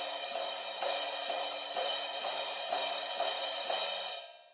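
Drum kit beat with cymbal wash and evenly spaced accented quarter-note hits, light eighths in between, fairly quiet and alone before cutting off.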